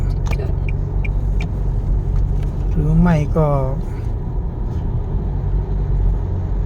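A car cruises at about 56 km/h on a rural road toward Ubon, its engine and tyres making a steady low rumble while someone talks over it.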